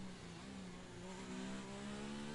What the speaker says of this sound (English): Really late on the downshifts there.